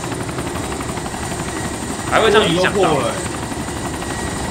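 A helicopter's rotor and engine drone steadily in DayZ, the craft's engine damaged, with a voice speaking over the continuous whir partway through.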